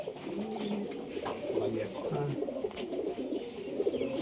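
Pigeons cooing, soft low coos repeating over a murmur of background voices and ambient noise, fairly faint and near.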